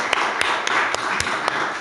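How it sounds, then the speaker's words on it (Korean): Audience applause fills a church revival testimony meeting, a steady wash of many hands with a few sharper, louder claps standing out at irregular moments throughout. "주님께 영광의 박수를 올려드리겠습니다."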